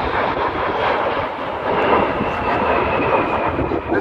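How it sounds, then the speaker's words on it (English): Two Polish Air Force Su-22 swing-wing jets pass at the Royal International Air Tattoo, a loud, continuous roar of jet engines that holds steady and swells slightly midway. "Coming in then for their first pass, these two Polish Air Force Su-22s"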